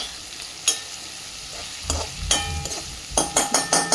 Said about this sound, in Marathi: कांद्याला गुलाबी कलर येऊपर्यंत परतून घ्यायचा आहे।